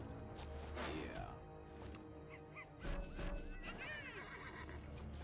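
Horse neighing and whinnying in the game Realm Royale, with a brief call near the middle over a steady game soundscape; faint hoof clops may sit under the mix.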